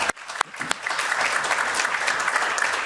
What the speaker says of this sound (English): we should give you a round of applause like everybody else